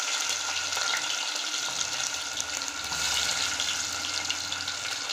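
Ginger and garlic frying in oil for moong dal, a steady, loud, continuous sizzle and hiss with no pauses.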